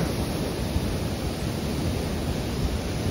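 The flooded Jaldhaka River surges past in heavy monsoon rain, making a dense, unbroken roar of rushing water. It is loud and continuous throughout, with no voices.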